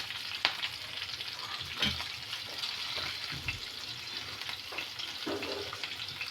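Peanuts frying in oil with cumin, mustard, curry leaves and chopped chilies for rava upma make a steady close sizzle with occasional crackles and soft stirring knocks, moderately quiet, with no voices.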